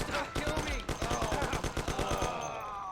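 Rapid bursts of gunfire in the 1930s gangster game Mafia, a fast run of sharp shots with a brief gap partway, mixed with shouting voices and game music.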